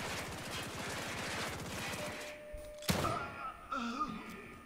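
Rapid gunfire in The Evil Within 2 rattles in a fast even burst, then a single sharp shot lands as a headshot, followed by groaning and gasping sounds.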